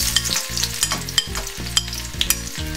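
Garlic sizzles loudly in hot oil in a pan while making chilli gobi, with rhythmic scraping and stirring strokes and crackling spatter close by, with no talking.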